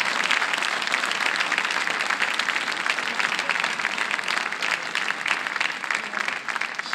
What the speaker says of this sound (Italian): Continuiamo questo applauso per il grande